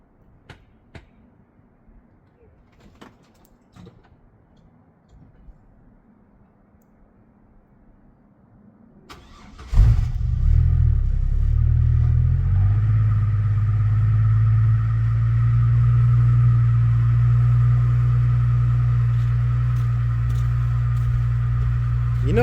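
Chevy Trailblazer with a newly replaced fuel pump: quiet clicks and fiddling, then the engine cranks and catches quickly and settles into a steady, loud, close idle.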